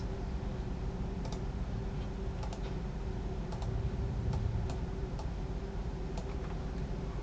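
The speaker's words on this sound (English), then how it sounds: "my drive location is K, so I am typing K:, enter" Someone types a short command on a computer keyboard, giving scattered, fairly faint key clicks in an irregular rhythm over a steady background hum.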